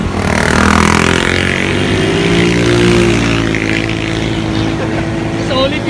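Motorcycles rumble together in a crowded political motorcade parade in Cavite, a continuous loud engine drone with shifting revs close by, while people talk over it.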